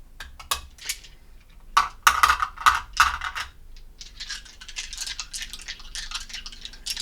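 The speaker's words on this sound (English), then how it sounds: "So we're going to roll 4 dice for you." Scooby-Doo dice clatter as they are rolled, with a series of sharp plastic clicks and rattles that become a dense, fast tumbling patter and continue to the end, close and alone.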